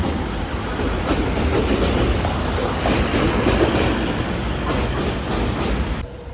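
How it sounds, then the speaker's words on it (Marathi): A train rumbles steadily across a bridge in Panvel with a continuous, loud roar and faint rhythmic clatter from the wheels, ending with a slight drop at the end. "ब्रिज आणि तिथं ट्रेन चालले बघू शकता तुम्ही"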